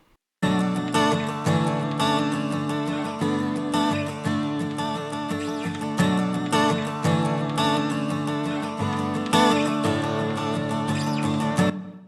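Acoustic guitar run through a Taper distortion plugin with a wobbling, pitch-warbled tone, continuous strummed chords played close and steady for most of the passage.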